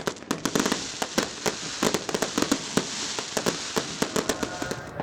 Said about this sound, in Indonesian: dentuman meriam karbit kembali bergema di kota Katulistiwa